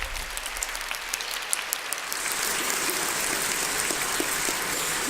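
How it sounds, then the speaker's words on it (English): An audience at a holiday event in a statehouse breaks into applause, first sparse and crisp, then swelling into a dense, steady wash of clapping that lasts to the end. "Can I have a nice round of applause for them?"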